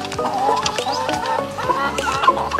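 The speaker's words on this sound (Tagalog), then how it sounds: "pinapakain ko manok." Chickens on a farm cluck busily while being fed, a close, lively chorus of overlapping clucks and short calls with no one speaking.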